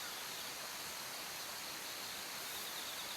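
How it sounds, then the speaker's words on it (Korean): Loud, rushing stream water pours through a valley just ahead, a dense, continuous hiss and roar that stays even throughout with no voices. "지금 바로 앞 계곡 물소리가 지금 크죠?"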